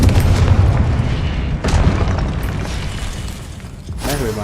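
Confringo fire spell blasts in a Hogwarts video game, a dense rumbling boom-like roar sustained throughout with a couple of sharper bursts and a rising whoosh near the end, no talking.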